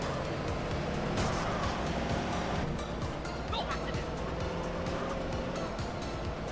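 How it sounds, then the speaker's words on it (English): Car engine in a GTA game, a steady loud motor drone with road noise throughout, a driving vehicle heard close and continuous under a talking voice. "We have different engine sounds."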